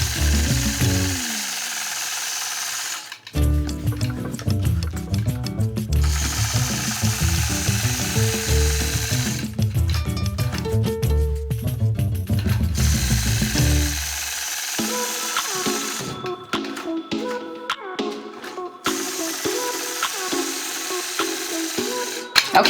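A sewing machine stitches quilted heart shapes guided by a ruler, running in loud sustained bursts of rapid needle chatter separated by brief pauses, with no talking.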